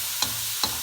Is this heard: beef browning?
yes